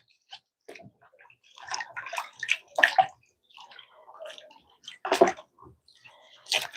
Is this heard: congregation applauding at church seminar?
no